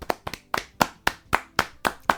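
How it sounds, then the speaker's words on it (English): A small group claps sparsely and close by, about nine distinct hand claps in a loose, uneven rhythm over a couple of seconds, with no talking. "Can we just get a round of applause for the Irish people out there?"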